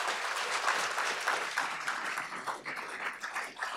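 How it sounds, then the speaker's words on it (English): Audience applause at a gathering honoring a book collector, a dense steady wash of many hands clapping that stays fairly even throughout, with no talk over it. "Please give them a round of applause."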